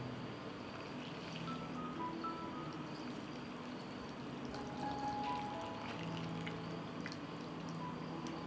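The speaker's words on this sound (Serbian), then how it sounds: "I nalivamo sa toplom vodom." A thin stream of warm water pours continuously at low volume over jars, a soft steady trickle with faint tonal ringing as a vessel fills.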